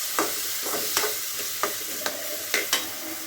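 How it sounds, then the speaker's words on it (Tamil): Onion and tomato sauté in a hot pan for a vadakari curry, with a steady sizzle and several scraping stirs of a spoon close by. "டொமேட்டோவும் நல்லா வதங்கி வரட்டும்."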